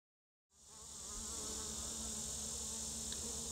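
Honey bees in a Langstroth hive hum in a dense, steady buzz that starts suddenly and stays close and constant, with no talk.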